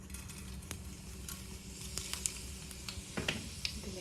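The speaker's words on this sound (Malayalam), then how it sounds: "നമുക്ക് കുറച്ച് പെരുംജീരകം ഇട്ട് കൊടുക്കാം കേട്ടോ" Fennel seeds hit hot oil and give a soft, low sizzle with scattered small pops and crackles, faint and close, with no voices.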